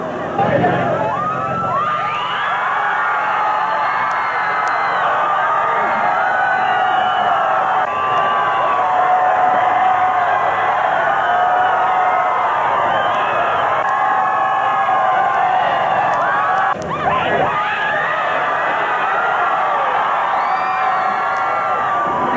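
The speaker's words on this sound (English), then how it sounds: "They stood for hours cheering, screaming, and celebrating" A huge Boston crowd celebrating the final Cheers episode cheers and screams in a dense, continuous roar, loud and unbroken, with whistles and shrill voices rising over the mass of noise.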